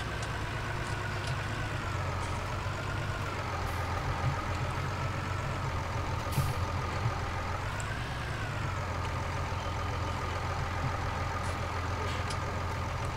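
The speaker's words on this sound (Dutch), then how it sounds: "het is niet de beste trekker hiervoor, maar hij trekt het prima" A tractor engine in a farming game runs as a steady, droning hum with a low throb, holding an even level throughout with slight shifts in pitch.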